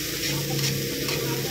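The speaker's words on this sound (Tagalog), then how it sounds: "Lagyan natin kaunting mantika. Yes, oil po guys. Mix." Cooking oil sizzling in a pan as it is stirred for a halal Arabic-style dish, a steady close crackling fry with faint scraping of the stir throughout.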